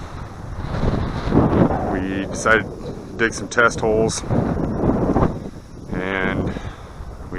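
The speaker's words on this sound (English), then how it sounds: "Sorry about the wind, guys. It's a little breezy today" Gusty wind buffeting the microphone outdoors at a backyard pond build, a steady low rumble under someone talking throughout.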